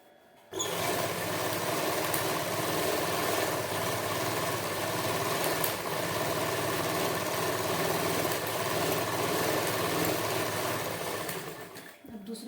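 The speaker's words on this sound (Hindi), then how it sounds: "ये देखो नीचे तक इसको सिलाई मारेंगे इधर तक" A sewing machine runs steadily while stitching a salwar, a continuous mechanical whir with a low idle-like hum that starts abruptly and holds even for about eleven seconds before stopping.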